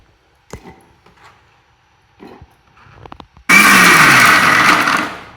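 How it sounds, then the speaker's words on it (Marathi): A kitchen mixer grinder coarsely grinds ridge gourd pieces for thecha, starting abruptly after a few soft handling clicks and roaring loud and steady for about two seconds before easing slightly. "आपल्याला हे मिक्सरला जाडसर वाटायचं आहे"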